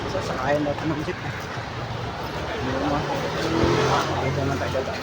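A jeep engine drones steadily while riding, with rising and falling revs and passing traffic noise, and people talk over the continuous motor.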